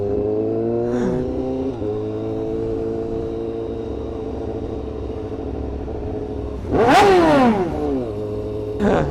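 A superbike engine idles with a steady harmonic rumble among other bikes at a crowded Fourth of July beach, then revs hard in a loud sweeping burst near the end, followed by a shorter second rev.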